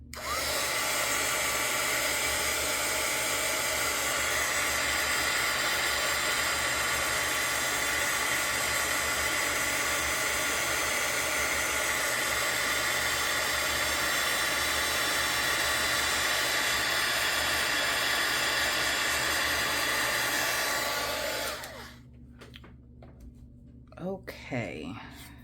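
A heat tool blows hot air onto a craft project with a loud, steady rushing hiss that lasts about twenty seconds before cutting off, leaving quieter handling noises. A voice talks over the blowing.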